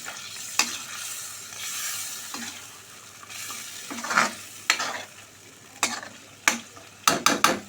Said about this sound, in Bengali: একে একে ডিমগুলো দেওয়ার পরে ভালোভাবে নেড়ে দিতে হবে